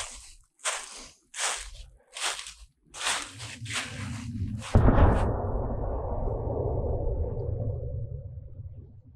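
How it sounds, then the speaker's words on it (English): A massive explosion in woodland at Great Seal State Park near Chillicothe gives a sudden deep boom that rolls into a long, low rumble and slowly fades. It follows several soft footsteps crunching on the trail, with no voices. "there was a massive explosion."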